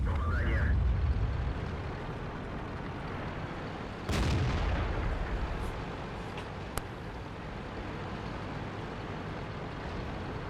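Gun blast from an SU-152 tank destroyer in World of Tanks: a single loud, sharp cannon boom partway through, ringing out over a steady low engine rumble, with a fainter crack moments later.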